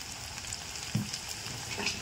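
Peeled whole garlic cloves sizzle steadily in hot oil alongside onion in a pan, a soft continuous frying hiss with one brief low clunk near the middle as they drop in.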